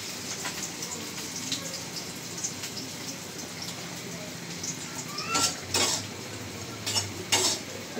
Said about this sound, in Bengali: এই শুটকিটা যত বেশি টালবেন এটার স্বাদ তত বেশি বাড়বে